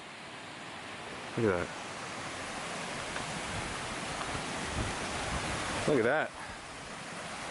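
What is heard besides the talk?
mountain creek flowing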